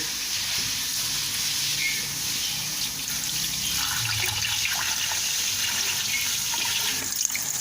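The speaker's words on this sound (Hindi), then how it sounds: "पानी ऐड करेंगे।" Water poured into a pot of soup with salt, peppercorns, ginger, garlic and onion, a continuous hissing splash running steadily for several seconds, close and even with no talk.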